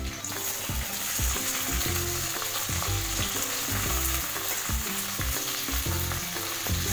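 Capsicum sizzles steadily in a hot pan alongside raisins, with a continuous close frying hiss and regular scraping stirs of a spatula, and no talking.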